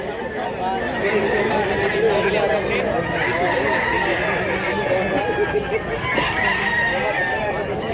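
Several roosters crow over a busy background of clucking hens and chatter in Mantalungon, Cebu, a dense farmyard din with people talking nearby.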